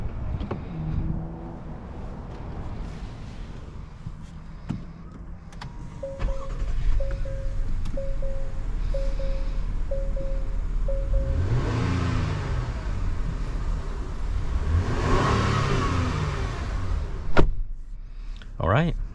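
A 2022 Acura MDX Type S on the road, its engine hum swelling into hard acceleration with a rising roar in the second half, heard from inside the cabin amid steady road noise.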